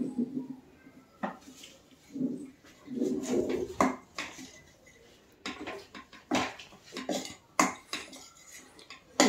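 Gram flour and semolina roasting on low heat for besan barfi, with irregular clinks and scrapes of a spoon against the pan as the mixture is stirred continuously.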